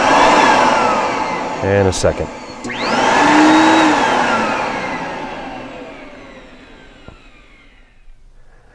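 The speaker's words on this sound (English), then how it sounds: "it's time to test the pump and the two vacuum motors to make sure there's power to them" Vacuum motors of a Phoenix Hydro X VacPac carpet-extractor unit whine up loudly after a switch click, rising to a steady high roar, then slowly winding down and fading; someone speaks briefly over it.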